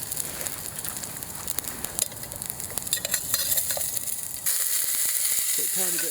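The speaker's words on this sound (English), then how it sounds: "just to help a little bit of lubrication while we're frying the spices" Oil sizzles and crackles steadily in a pan as chili seeds, spices and garlic fry at a wild camp, with stirring scrapes, then the hiss grows louder and brighter.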